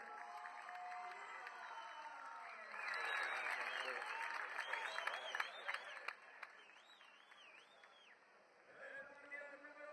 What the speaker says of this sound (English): expect the hometown crowd to go absolutely wild for their boy on the 595, Gonzalo Molina.